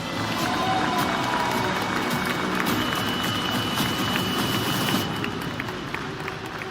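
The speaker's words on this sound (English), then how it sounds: "But as Hikaru has to bow out of the stage, please can I have a round of applause for Hikaru Nakamura?" Audience applause at an Esports World Cup chess event, a dense, steady wash of clapping from a crowd that holds for several seconds before starting to thin out toward the end.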